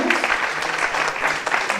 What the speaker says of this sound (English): Please give the panel a last clap as we exit.